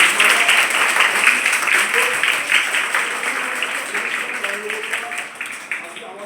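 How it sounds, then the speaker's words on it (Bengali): An audience at a karate and sports academy event claps loudly, a thick, sustained wash of applause that gradually softens over several seconds, with a voice faintly underneath. "তার জন্য একটা জোরে হাততালি হোক"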